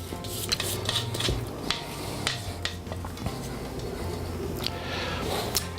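Wet muffin batter with applesauce being stirred and folded into a dry mixture in a bowl, heard as close, steady scraping and rubbing with occasional light clinks of a utensil against the bowl.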